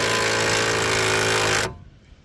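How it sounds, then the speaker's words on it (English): An impact wrench hammers loudly on rear brake bolts of a 2015–2021 Kia Sedona, a close, sustained rattling buzz that cuts off abruptly near the end, leaving faint room noise. "you can use your impact tools, which I have and which I'm gonna use."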